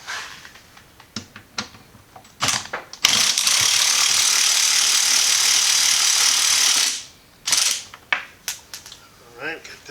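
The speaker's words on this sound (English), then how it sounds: "now we're going to remove those that 4mm hex and the 30mm Torx screws" A ratchet removes 4mm hex screws from a Porsche 996 Turbo window regulator, with scattered clicks and clanks followed by a long, fast, continuous ratcheting run and then a few more short bursts.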